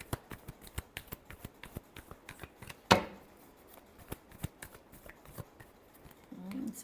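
Tarot cards are shuffled close up in quick papery riffles and taps, with one sharper slap partway through, over a faint low background.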